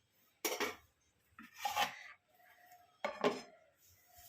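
A lid goes onto a pot of beet and carrot curry with a few close metallic clanks and scrapes, separated by short quiet gaps.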